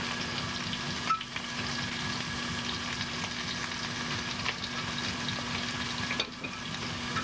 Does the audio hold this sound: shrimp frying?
yes